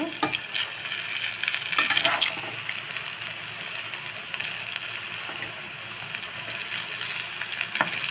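Sabudana bondas fry in hot oil with a continuous, close sizzle and scattered sharp crackles and pops, no voices.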